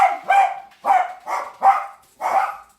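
Six sharp close dog barks arrive in a quick, uneven rhythm, loud and alone with no talk.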